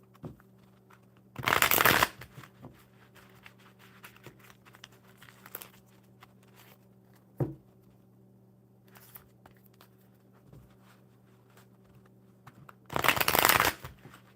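A deck of oracle cards is shuffled in two short, crisp riffling bursts far apart. Faint taps and handling noises fill the quiet stretch between them.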